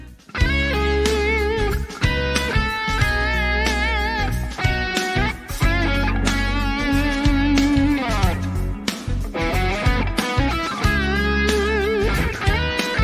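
Expressive electric blues guitar line with bent, wavering sustained notes and quick phrases over a steady backing, loud and close throughout, no voices.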